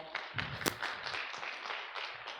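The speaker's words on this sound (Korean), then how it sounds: "힘찬 박수로 모시겠습니다" Audience applause at an education forum welcoming a teacher to the stage, a fairly faint patter of many hands clapping steadily with no voices.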